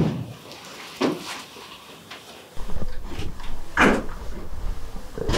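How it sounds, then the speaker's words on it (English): A bedroom door is shut, giving a few muffled wooden thuds and knocks spread over several seconds, with a low rumble underneath. "And then we'll go ahead and shut your bedroom door"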